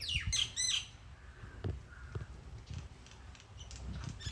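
Mynas give a few harsh squawking calls up front, then quieter scattered chirps follow over low outdoor rumble. The calls are moderately close and uneven.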